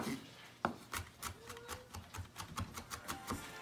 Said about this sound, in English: once you get some parsley as well, you wanna just go ahead and slice through that